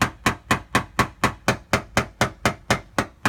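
Hammer tapping on the crash-damaged body metal of a 2015 2500HD truck, thirteen sharp evenly spaced metallic blows, close and loud, repeating steadily with no talk.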